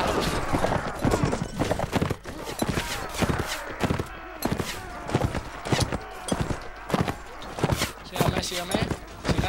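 Horse hooves clip-clop steadily in a medieval kingdom-building video game, a loud, rhythmic run of hoofbeats with continuous clattering and background game noise underneath.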